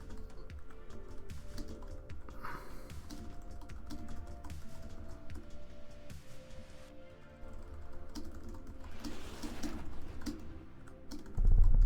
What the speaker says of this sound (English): I'm just typing at a moment.